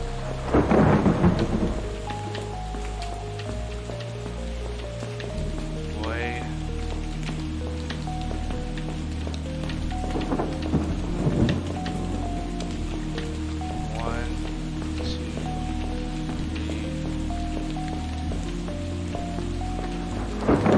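Rain and thunder in the video game Five Nights at Freddy's: Security Breach, steady heavy rain with several loud rolling thunder cracks spaced a few seconds apart, plus faint tonal game sounds.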